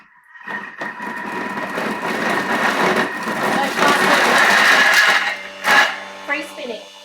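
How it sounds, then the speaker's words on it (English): A blender churning seed and nut butter at high speed, with a steady loud motor whir that shifts as the thick mixture stops catching and the blade free-spins, with brief bumps near the end. "if you're making those seed and nut butters, you'll sometimes find that it free spins"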